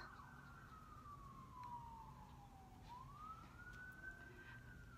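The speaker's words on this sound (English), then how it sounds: "Y'all hear the ambulance in the background?" A distant siren wails steadily, its pitch sliding down and then back up, over a low rumble of background noise with no talking.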